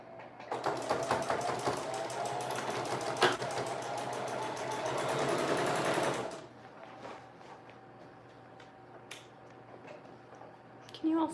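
A sewing machine hemming a summer dress at a half seam allowance runs in a fast, steady mechanical clatter for about six seconds, then stops, leaving quiet room tone with a few faint handling clicks.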